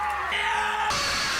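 Perseus, the film hero facing mythological beasts, lets out a loud, sustained battle scream that is heavily layered with dense movie sound and score, lasting just over a second.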